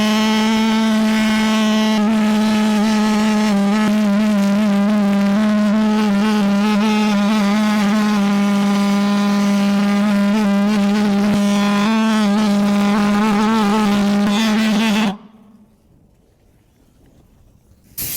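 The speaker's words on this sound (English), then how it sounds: "Can a jet engine be used to cook bacon?" A loud, steady droning roar with a strong buzzing tone from a pulse jet engine runs continuously, then cuts off abruptly, leaving near silence.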